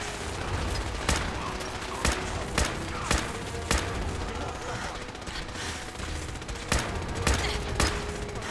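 A gun fires repeatedly in Fallout 4, a series of sharp loud shots spaced at uneven intervals, a few in quick pairs, over a dense, noisy background.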